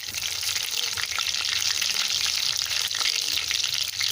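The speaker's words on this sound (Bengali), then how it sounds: "গোটা জিরে ভালোভাবে ভেজে নেব।" Bay leaf, green chili and whole cumin fry in hot oil, making a loud, continuous, close sizzle with light crackling and occasional stirring scrapes.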